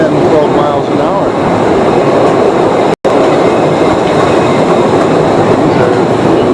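A tourist train rolls through the limestone caves of Postojna at about ten to twelve miles an hour, a loud, steady rumble and rattle of wheels and cars that cuts out abruptly for a moment.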